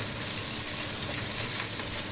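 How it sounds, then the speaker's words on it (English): Scallions and ginger fry in oil in a wok, giving a steady, even sizzle that holds without break for a couple of seconds, close and moderately loud with no voices. "We'll then fry off some scallions and ginger in it."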